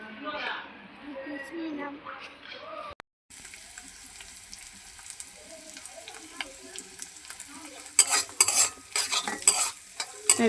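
Noodles stir-fry in a pan for an evening meal, with a soft sizzle under a voice at first. Clattering, scraping stirring strokes then follow, with rhythmic bursts of spatula against pan over steady frying near the end.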